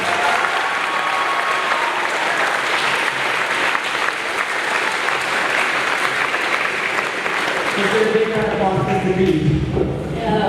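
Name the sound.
audience applause for the scenery and props crew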